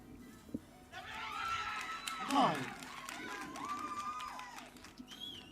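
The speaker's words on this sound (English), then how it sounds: "And they've got the support of the crowd. We can hear that, trying to cheer their team on." Spectators cheering on their team at the African Archery Championships recurve finals in Nabeul, a distant swell of shouts and whistles that peaks in the middle, with a commentator's voice talking over it.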